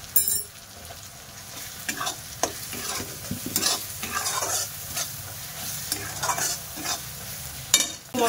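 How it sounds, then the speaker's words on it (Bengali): A spice paste with turmeric fries in a pan while being stirred, giving a steady low sizzle broken by repeated scraping strokes of the spoon against the pan, close and fairly quiet, with no voices. "মশলাটা বেশ ভালো করে কষিয়ে নিয়েছি।"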